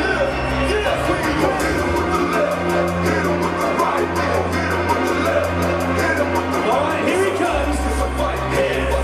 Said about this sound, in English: Put your hands together for Ricky the Rocket Nelmes!